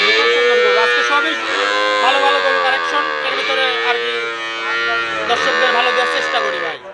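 A Holstein Friesian dairy cow at a farm sale moos loudly and at length, with a second drawn-out call near the end, close to the recorder while people talk in the background.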